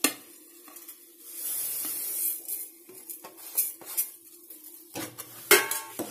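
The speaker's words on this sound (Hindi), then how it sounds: "अब हम इसमें तुरंत तिल डाल के मिक्स कर देंगे।" A spoon scrapes and clinks in a pan while sesame seeds are stirred into hot jaggery syrup for sesame-jaggery laddoos, with irregular close metallic knocks and rubbing and a soft sizzle in quiet surroundings.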